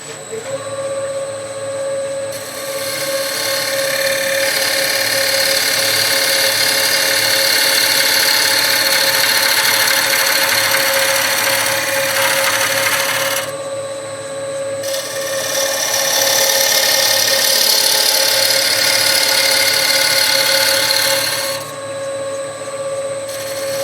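A wood lathe hums with a steady tonal whine while a cutting tool is pushed through a turning bowl, producing long passes of loud, rough shaving noise separated by brief pauses where only the motor drone remains.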